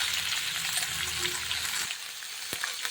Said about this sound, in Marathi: तापले की त्यामध्ये जिरे घाला.